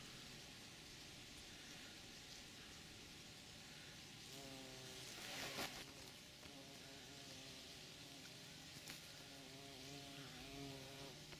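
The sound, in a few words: bumblebee buzzing, first bee of the season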